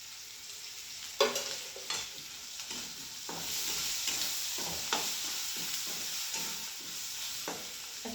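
Onion seasoned with salt and turmeric sautés in oil, a steady close sizzle broken by repeated scraping stirs of the spatula through the pan, with no talking.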